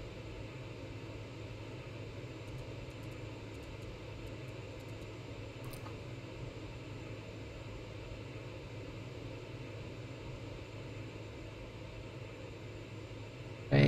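Pilatus PC-12 turboprop engine in the X-Plane 11 flight simulator over Alaska, a steady, even cabin drone with broadband hiss that holds constant for the whole stretch, no voices.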